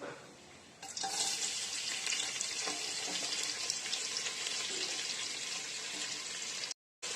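Two finely chopped large onions sauté with salt, cloves and a pinch of fennel in a pan, a steady close hissing sizzle starting up after a quieter first second and holding on until a brief cut near the end.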